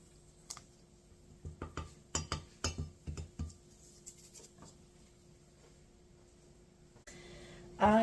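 A spoon clinks against a bowl while sugar and salt are stirred together, a run of light irregular taps and scrapes, fairly close and quiet, followed by a brief louder rustle at the end.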